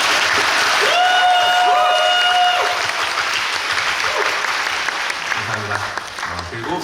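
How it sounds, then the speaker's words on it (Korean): Loud applause and crowd noise from a musical theatre audience at a curtain-call greeting after the Paganini musical, with a brief voice cheering over it early on, the clapping gradually fading. "밴드 선생님들한테 다시 한번 박수 부탁드립니다"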